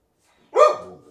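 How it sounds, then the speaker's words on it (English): A single short dog bark rings out close by, sharp at the onset and trailing off quickly, with no talking around it. "Why are you barking at me?"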